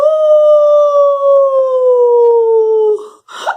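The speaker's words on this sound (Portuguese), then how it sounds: "sublinhado pelo uivo de um cachorro" A single dog howls in a long, sustained, slowly falling tone for about three seconds, loud and close, then breaks into a short whimpering yelp.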